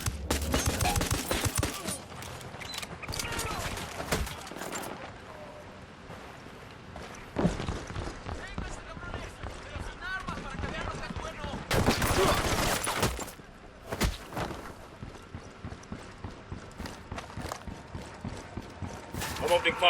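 Gunfire in the video game Ghost Recon Wildlands, bursts of rapid shots and loud blasts over footsteps and movement, with voices talking throughout.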